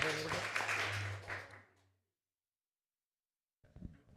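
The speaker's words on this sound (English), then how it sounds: "Round of applause for Ms. Salanitro." Audience applause at a school board of trustees meeting, a dense burst of clapping for an invited principal that fades out after about two seconds, followed by silence and then a voice starting to speak.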